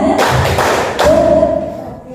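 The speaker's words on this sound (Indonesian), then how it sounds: "Tepuk 1, tepuk 2, tepuk 3" A group of people claps together in a counted pattern, bursts of claps near 0.2, 0.6 and 1.0 seconds, loud and close, with voices mixed in around them.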